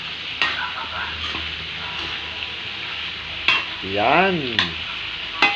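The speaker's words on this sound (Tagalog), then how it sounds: "Ginisang kalabasa na may bangot na dilis." Squash and salted anchovies sautéing in a pan, with a steady close sizzle, several sharp clinks of a utensil against the pan, and a brief stirring scrape near the end. A voice speaks briefly.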